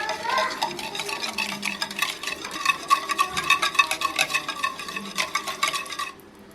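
Melted butter being stirred into a cinnamon roll mixture in a bowl, a steady run of close scraping and stirring strokes with no talk, stopping abruptly near the end.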